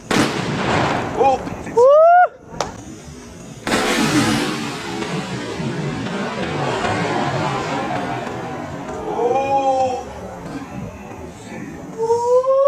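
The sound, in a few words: Diwali atom bomb firecracker exploding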